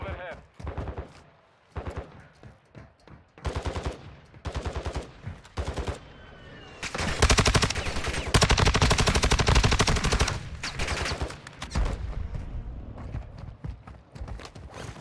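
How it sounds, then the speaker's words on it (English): Dense rapid gunfire in Call of Duty: Warzone 2, loud bursts of automatic shots and single cracks in a continuous barrage, peaking into sustained heavy firing midway, with players talking over it. "They're shooting at a real person."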